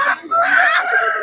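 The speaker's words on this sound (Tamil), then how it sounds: "வான்கோழி வச்சிருக்காங்க." Turkeys at a busy poultry market in Kundarapalli, South India, give a loud, close, continuous gobbling and honking burst lasting about a second.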